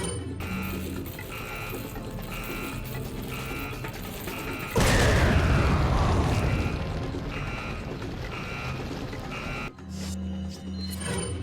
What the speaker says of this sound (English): Let's turn off this annoying alarm.